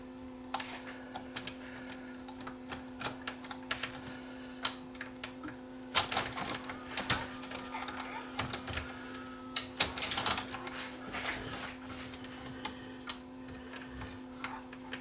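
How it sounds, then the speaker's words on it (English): A Samsung SV 5000 multi-system VCR mechanism loading a tape, heard up close as irregular mechanical clicks and ticking clatter over a steady motor hum, with no talking. "Let's see if I can load a tape in here."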